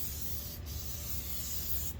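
Continuous close hiss of a spray paint can coating a painted 3D-printed PLA background, a steady even burst with brief pauses at start and end of passes.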